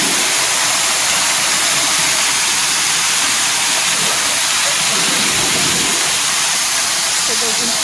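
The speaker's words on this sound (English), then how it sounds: "They are right just next to the waterfall." Waterfall beside open caves at a cultural site in Uganda, a loud, steady rushing roar that fills the whole scene, with faint talking beneath it.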